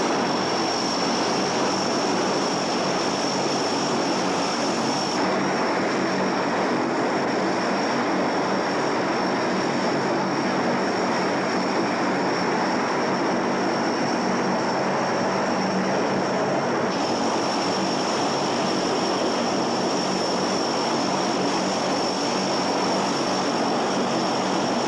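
Military transport aircraft carrying paratroopers of the 82nd Airborne, a continuous loud propeller-engine drone that stays steady and close throughout, with no voices.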